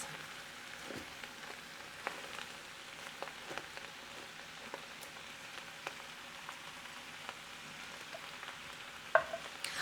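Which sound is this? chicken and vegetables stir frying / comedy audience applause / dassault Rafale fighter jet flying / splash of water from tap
chicken and vegetables stir frying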